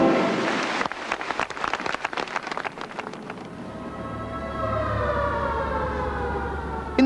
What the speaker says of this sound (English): there's a bit of a racket at 7 a.m. when blaring sirens signal the start of the working day